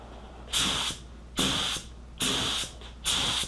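Black Widow HTE spray gun laying clear coat along panel edges, four steady hissing bursts of about half a second each separated by short pauses, close and fairly loud over a low background hum.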